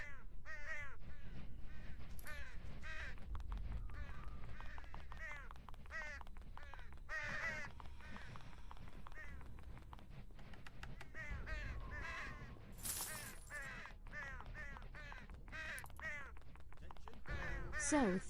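Crows caw over and over in the video game Sacred, at a castle called Crow's Rock, with harsh repeated calls from several birds over a steady ambient rumble, continuous and fairly close, with no talking.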